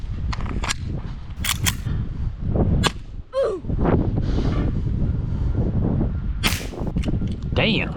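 A Tokenrui 4.5 airsoft gas revolver fires into a block of spam, giving several sharp, loud cracks scattered among outdoor wind noise and handling sounds, with some voice in the background.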